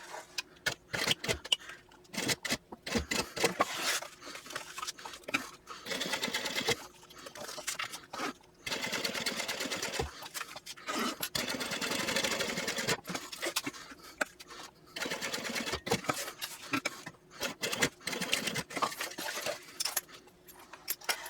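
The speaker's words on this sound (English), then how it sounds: "Now I want to top stitch around these 3 edges." A sewing machine top stitches the edges of a fabric FoldnZip backpack: a steady close mechanical whir runs in long stretches, broken by short pauses and small clicks and rustles of the material.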